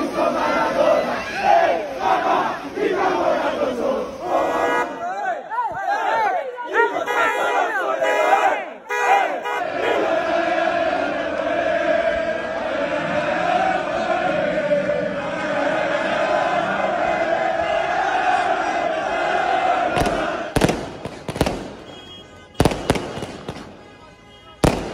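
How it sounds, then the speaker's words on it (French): Napoli supporters outside the Milan team's hotel at night roar and chant as a dense crowd, with firecrackers and fireworks bursting sharply through the din, especially near the end. "les supporters napolitains, ils ont fait du bruit devant l'hôtel des Milanais"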